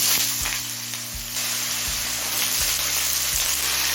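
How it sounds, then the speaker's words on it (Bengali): Potato pieces dropped into white oil heated on a high flame sizzle loudly and steadily up close, with a few soft knocks of utensil against the pan, no talking. "তেলটা হাই ফ্লেমে গরম করে নিয়েছি এবার প্রথমে আলুটা দিয়ে দেবো"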